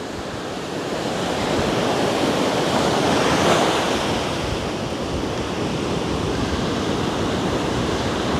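Ocean surf near a pool deck makes a loud, steady roar of breaking waves that swells slightly and then holds, mixed with some wind noise and no voices.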